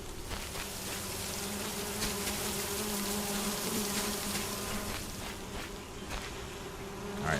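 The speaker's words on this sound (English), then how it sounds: "These are gonna constantly make bee noise." Steady, dense buzzing of bees swarming around beehives in the cozy farming video game Solarpunk, a continuous drone that holds at an even level throughout with no talk over it.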